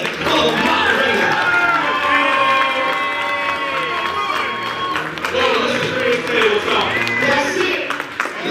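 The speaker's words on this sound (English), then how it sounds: "Come on, clap your hands for the moderator." A live panel audience clapping and cheering for the moderator: sustained applause with whoops and shouts, loud and continuous, with voices calling out over it.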